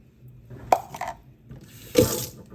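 Gumbo ingredients are drained in a strainer under a kitchen tap, with two short bursts of running water splashing against the strainer, separated by a quiet pause.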